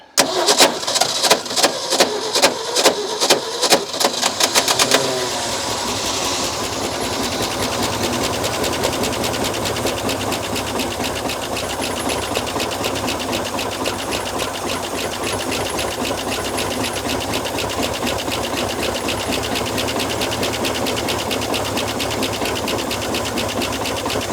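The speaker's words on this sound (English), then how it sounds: "Hold fuel in hand. Turn starter." A Ford F600 truck's starter cranks the engine in a rapid rhythmic chugging for about five seconds, then the engine catches and runs loudly and steadily up close for the remaining twenty seconds, with no talking.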